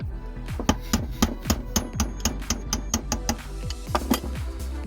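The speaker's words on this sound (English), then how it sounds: "use the wrench to tap it in there" Repeated metallic taps from a wrench used as a hammer to knock a part into place on a Reliant car's gearstick assembly, about a dozen sharp close strikes in a steady irregular rhythm.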